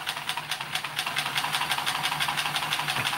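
A plastic model V8 engine run without oil knocks and clatters in a fast, even rhythm of sharp metallic ticks over a hissing running drone, close and fairly loud.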